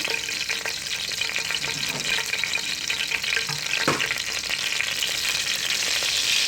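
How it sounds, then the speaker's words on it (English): Curry powder frying in a pot while stirred, a loud, steady, crackling sizzle that fills the whole stretch, with occasional faint spoon scrapes and one brief knock partway through. "As I put in, I just stir"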